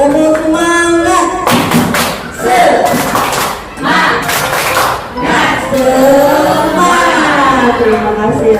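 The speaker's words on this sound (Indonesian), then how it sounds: "Mari kita tepuk semangat dulu Bapak Ibu." Indoor audience of teachers at a school training session doing a rhythmic spirit clap, several loud bursts of group claps with chanting voices mixed in, then a presenter talks.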